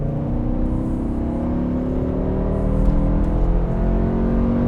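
A powerful V10 engine in a BMW E60 M5 with a 6-speed manual roars continuously and climbs steadily in pitch as it accelerates hard, loud and close, with no voices.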